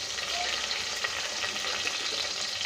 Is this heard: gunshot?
no